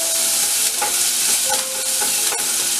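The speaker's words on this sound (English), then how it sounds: "I'm going to add this grated ginger to it and then saute for 2 minutes" Grated ginger sautés in hot olive oil in a pot, with a steady bright sizzle and the clink and scrape of stirring now and then, close and fairly loud, with no talk.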